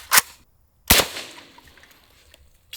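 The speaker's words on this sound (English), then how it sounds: "I've never shot a 762x39 AK, the traditional round for an AK platform, suppressed." Two suppressed shots from a 7.62x39 AK rifle fitted with an OSS suppressor: each is a sharp, close crack followed by a short fading tail. A faint third pop sits at the very end.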